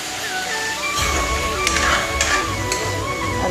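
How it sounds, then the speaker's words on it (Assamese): Meat fries in a pan with a continuous sizzling hiss, close and fairly loud, joined by a few brief stirring clatters and faint tonal background sounds. "5 মিনিটমান ভাজি লওঁ"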